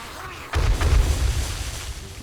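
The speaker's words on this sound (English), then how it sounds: "Nice. Double explosion." A double explosion in the zombie survival game 7 Days To Die: a heavy, deep boom bursts in suddenly and then rolls on with a rumbling low tail, fairly close and loud, with no talk.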